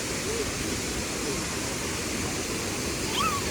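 Banjhakri Falls in Sikkim thunders as a steady, dense roar of falling water, loud and unbroken throughout with no pauses, a faint voice barely surfacing near the end.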